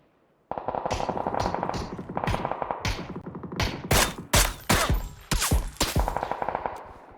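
Sharp bursts of gunfire in PUBG crack in quick clusters, some single shots and some rapid volleys, loud and close with a steady background hum.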